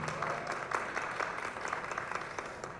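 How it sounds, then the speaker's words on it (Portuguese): Audience applause for a guest at a São Paulo MC culture talk, steady moderate clapping from a crowd with some individual claps standing out, fairly even throughout. "Uma salva de palmas para a Renata."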